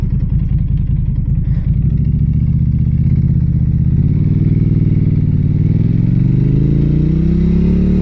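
A 2023 Norton Commando 961 SP motorcycle rides along at low speed, its engine a steady close rumble that swells as it accelerates through the second half, with no talking.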